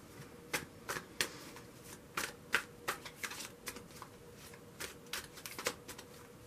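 Tarot cards being shuffled by hand, a rapid series of crisp riffling snaps in uneven bursts, close and clear with no talking.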